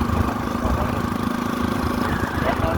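A motorcycle engine runs close and loud in a steady, throbbing rumble, held at an even pitch throughout with no clear rise or fall.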